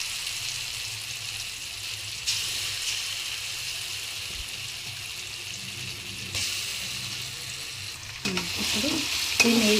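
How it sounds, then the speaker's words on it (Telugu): Grated raw mango stirred in hot oil in a pan, a steady close sizzle and frying hiss with scraping stir strokes and occasional clinks, no talking. "ఈ విధంగా కలుపుకోవాలి హరి ఓకే ఈ విధంగా ఆయిల్ మొత్తం స్ప్రెడ్ అయ్యేటట్టు దీనికి ఈ ఆయిల్ అంటుకోవాలి"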